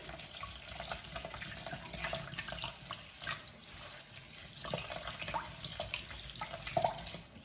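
Tap water runs steadily into a sink while kale leaves are washed one by one, a close, continuous splashing flow with occasional louder spatters as leaves are handled.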